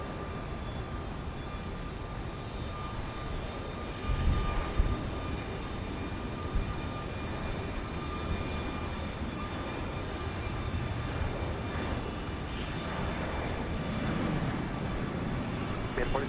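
Airliner noise at George Bush Intercontinental Airport in Houston, Texas: a steady broad engine roar with faint tonal whine holding level throughout, swelling slightly in the middle, heard from a distance with no talk.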